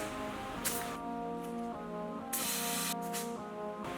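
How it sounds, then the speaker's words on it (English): Compressed air hissing at a dirt bike tire valve while the pressure is set to 15 PSI: a steady, close hiss with a few sharper bursts and an underlying hum, no voices. "So now I'm gonna set the tire pressure."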